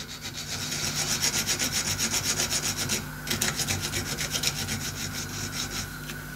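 Needle files work a rounded metal corner on a DIY steampunk clock's fake pressure gauge, cleaning it out and deburring it with quick, even back-and-forth rasping strokes, close and moderately quiet, with a short pause midway.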